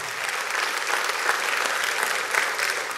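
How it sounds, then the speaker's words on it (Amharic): A church congregation claps together in sustained, dense applause that holds steady at a moderate level for the whole stretch, without clear speech over it. "አጨብጭቡ ለጌታ ክብር"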